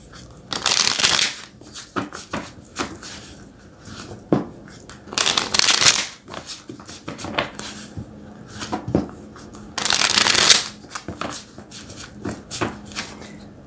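Tarot cards being shuffled up close in repeated bursts of riffling and sliding, with three louder, longer flurries standing out among softer card handling, and no talking.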